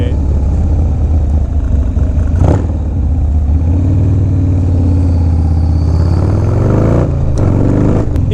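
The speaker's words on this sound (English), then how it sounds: "FXR power, baby! 1988." A 1988 Harley-Davidson FXR motorcycle engine rumbles loudly and steadily up close, with brief throttle blips near the middle and end of the clip.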